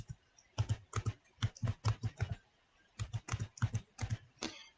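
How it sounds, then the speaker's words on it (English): Rapid bursts of typing on a computer keyboard, close and clear, with clustered keystroke clicks separated by short pauses and no talking. "I was typing it all up in capitals for some reason"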